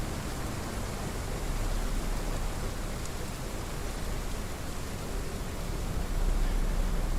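Steady, dense rain hiss fills the scene in the dinosaur survival game Path of Titans, a constant broadband wash with no pauses or distinct drops, loud and even throughout.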